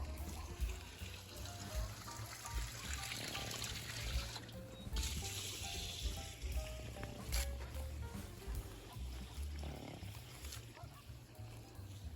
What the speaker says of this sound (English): I got the water troughs moved over here, and I'm just getting them filled up